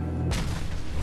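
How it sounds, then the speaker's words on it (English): An explosion sound effect during a livestream, a sudden deep boom that cuts in over a low rumble and then sustains as a loud, broad roar. "Why is the world exploding?"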